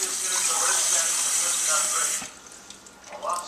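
Tap water runs steadily into a sink as wheat gluten dough made from whole red wheat kernels is rinsed, a loud continuous splash for about two seconds before it cuts off, leaving quiet handling noises.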